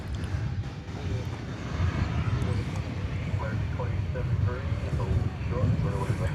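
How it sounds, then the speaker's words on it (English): An Airbus A321 airliner arrives at DFW Airport at night, its engines a steady broad roar with a low rumble that holds evenly throughout. "Arriving from San Diego, flight 2073 in Airbus A321."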